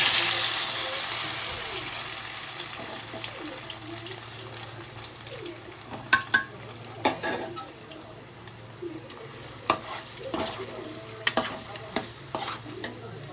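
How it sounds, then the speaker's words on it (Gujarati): Peanuts frying in a pan for poha, a soft steady sizzle under a low hum, broken by sharp scraping and stirring clatters of a spoon against the pan in the second half. "જો સિંગના દાણા નાખી દઉં. સિંગના દાણા જો ઘડી સડવા દેવા પડશે"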